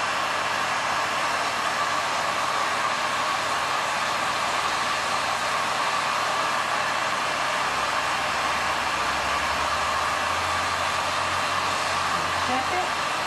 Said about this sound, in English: Turn the heat gun on.